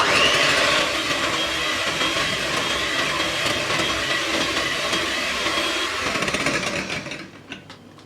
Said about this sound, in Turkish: 3 adet yumurtamı karıştırma kabımın içerisine aldım ve şöyle güzelce bir çırpalım